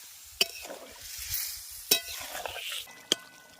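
Jackfruit and potato sauté with spices in a pan, a faint low sizzle under three sharp metallic clinks of a spoon against the pan.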